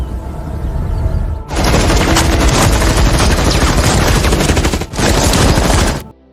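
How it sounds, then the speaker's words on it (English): Hunters in a film fire their weapons at random, a loud, dense burst of rapid gunfire that runs for several seconds, breaks briefly, then resumes before stopping abruptly. "The hunters begin randomly firing their weapons in an effort to draw Malone out"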